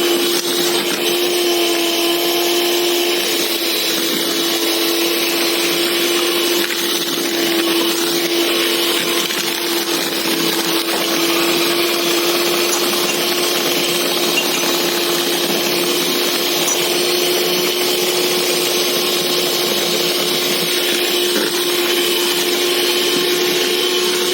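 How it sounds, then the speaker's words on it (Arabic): Electric hand mixer beating cake batter for a large family-size tray cake, a loud continuous whirring motor with a steady high whine that runs unbroken throughout. "كل ده والمضرب بتاعنا شغال، ما بنفصلش خالص."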